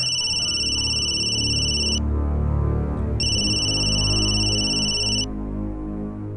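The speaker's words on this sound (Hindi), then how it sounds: "देखो किसका फोन है।" A telephone ringing in two loud electronic bursts separated by a short pause, over a continuous hum of a crowded hall at a CM's press gathering.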